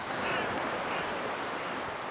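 Surf washes onto a sandy beach on the Bristol Channel shore, a steady broad rushing wash of waves with wind buffeting the microphone, no voices.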